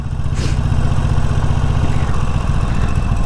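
A Harley-Davidson Forty-Eight motorcycle idles up close with a turbo exhaust whistle fitted, giving a steady loping low rumble throughout, with a brief hiss near the start.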